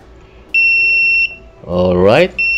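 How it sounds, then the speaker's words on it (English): Water level sensor circuit buzzer in a tank setup sounds a steady high electronic tone twice, about 0.7 s then a shorter burst, close and loud, with a brief sweeping noise between them. "and the buzzer sounds."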